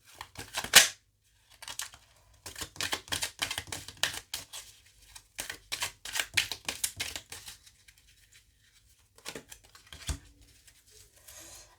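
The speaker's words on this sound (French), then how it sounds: "je vais vous tirer une petite carte de l'oracle de la sagesse divine" Oracle cards being shuffled and one drawn: rapid bursts of crisp card flicks and riffles, close and fairly quiet, pausing before a final few snaps.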